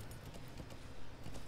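Horse hooves clip-clopping in the video game Metal Gear Solid V: The Phantom Pain, a faint rhythmic trot of soft repeated hoofbeats.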